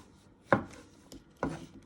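A kitchen knife chops shallots and chives on a cutting board, two crisp, separate cuts about a second apart, close and fairly quiet, with no talking.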